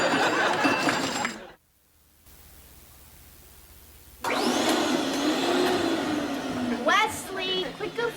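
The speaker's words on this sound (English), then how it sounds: "You're supposed to be vacuuming." A vacuum cleaner revving, its loud broadband roar surging, cutting off, then coming back on and rising in pitch, with voices talking over it.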